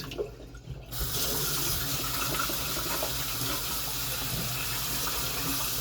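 Water runs steadily from a tap while a pet bowl is rinsed, a close, continuous splashing rush that starts after a brief quieter moment.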